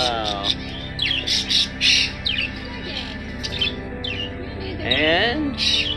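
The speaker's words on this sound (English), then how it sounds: "Oh, look at the finches." Small finches chirp and tweet in short bursts inside a pet shop, with a person talking over much of the calling.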